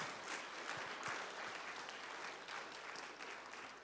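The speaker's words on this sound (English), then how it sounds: "give them a quick round of applause if you want." A church congregation gives a short round of applause for the meal team, a steady wash of many hands clapping that sounds somewhat distant and soft.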